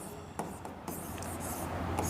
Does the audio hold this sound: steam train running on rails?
no